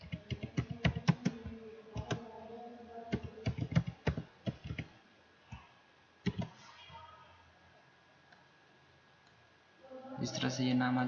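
Someone types on a computer keyboard in MS Word while making a business card: quick, close bursts of clicking keystrokes with short pauses between them, then a voice starts speaking at the end.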